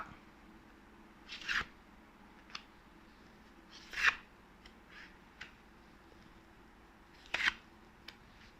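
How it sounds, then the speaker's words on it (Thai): Tarot cards shuffled by hand in a few quick, crisp bursts separated by short pauses, close and fairly quiet, with no talking. "ขอสับไพ่นิดนึงนะครับ"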